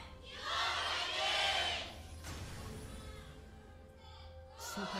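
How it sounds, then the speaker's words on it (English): Fans at a League of Legends esports match, SKT T1 versus KOO in the LCK Summer 2015 season, cheer in a loud roar that swells and then fades, with a commentator's voice in the background. "Fans cheering on their teams."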